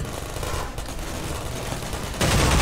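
Sustained heavy gunfire from a large weapon in the first-person shooter Half-Life 2 MMod, a dense continuous rattle of shots that grows louder and harsher near the end, with no talking.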